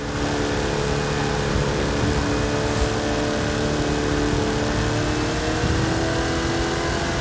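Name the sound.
Hot Wheels car racing in video game Forza Horizon 5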